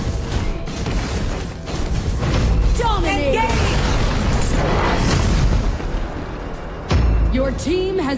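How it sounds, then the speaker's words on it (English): Explosive booms and crashing bursts from a tower being destroyed in the Arena of Valor mobile game, loud and dense amid layered game effects and music, with an announcer voice briefly over the mix. "Team has destroyed a tower."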